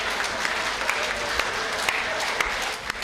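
Audience applause at a Hindi hasya kavi sammelan comedy poetry show, steady dense clapping from a crowd filling the whole stretch with a few sharper claps poking through.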